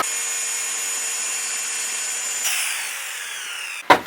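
Power saw cutting an oven opening into a wooden wall inside a Sprinter van conversion, a steady high buzzing drone that shifts in pitch partway through and ends with a brief clatter, with no talking.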